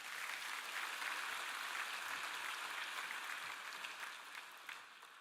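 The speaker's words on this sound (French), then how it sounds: "Applaudissez-les bien fort." A church congregation applauding after a sermon on the resurrection of Jesus Christ, a faint, dense and continuous wash of clapping from many hands that tapers slightly toward the end.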